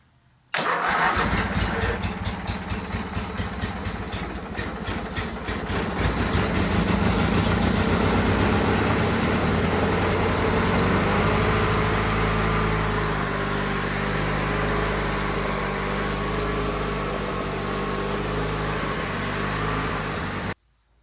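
A Craftsman garden tractor engine cranks over and catches, then settles into a steady, loud idle that runs unbroken for about twenty seconds with no talking.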